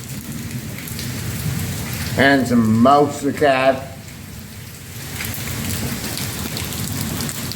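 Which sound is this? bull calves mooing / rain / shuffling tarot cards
rain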